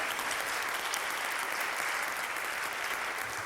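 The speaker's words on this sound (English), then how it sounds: "So that you can clap it up for that." A crowd applauding steadily at a youth homelessness fundraiser event, a thick, even wash of clapping sustained throughout at constant loudness, no voices standing out.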